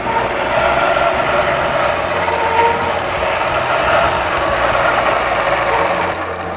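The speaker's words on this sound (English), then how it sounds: "And then I'm just going to stitch." A sewing machine stitching free-motion quilting hums with a steady, fast mechanical buzz, loud and close, running continuously before easing off at the very end.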